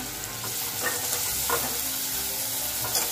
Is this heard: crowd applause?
no